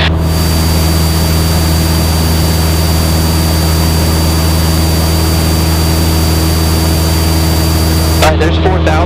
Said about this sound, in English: it allows that engine to cool off a little bit more as we climb up